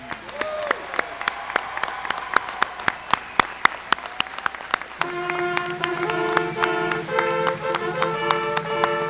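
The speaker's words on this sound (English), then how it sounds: "One more round of applause for these graduates." Crowd at a high school commencement applauding graduates, sharp claps building into dense sustained clapping that fills the hall.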